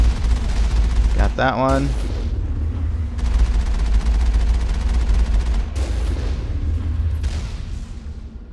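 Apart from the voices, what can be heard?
gunfire in Mass Effect video game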